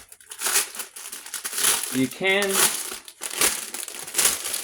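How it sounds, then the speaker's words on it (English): A plastic bag crinkles in rustling bursts as another set of 3M adhesive buttons is pulled out, with someone talking over and between the crackles. "get another set out of this plastic bag"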